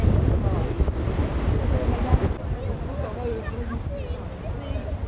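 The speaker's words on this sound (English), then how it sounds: "these conditions are quite crazy and the wind is quite extensive" Strong wind buffeting a microphone on a bridge high over a valley near Neuschwanstein Castle in Bavaria, a steady loud rumbling roar with gusty swells, heard alone.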